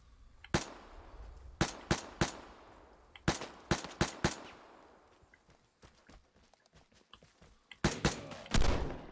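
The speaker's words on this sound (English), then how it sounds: "he got me with that shotgun" Shotgun blasts in the game Vigor crack out in quick clusters of loud, separate reports, with a quieter lull between groups.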